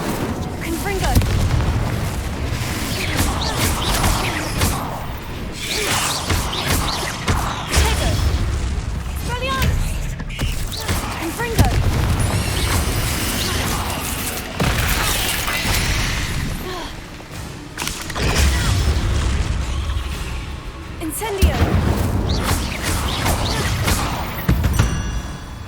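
Repeated Confringo fire-spell blasts in the wizarding game Hogwarts Legacy boom one after another amid combat, loud heavy bursts with crackling debris, separated by brief lulls, and a voice calls out spells between them.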